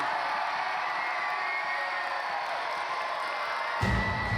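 A big audience applauds and cheers at a robot-combat show, a steady roar of clapping and whoops from a crowd with a slight swell near the end.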